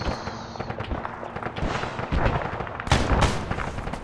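Rapid volleys of gunfire in the military shooter Arma 3, with sharp cracks and heavier bursts that swell louder in the second half, no talking.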